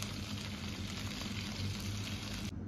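Meat-stuffed chili peppers fry in an oiled pan with a steady, dense sizzle that holds evenly throughout, then cuts off abruptly near the end.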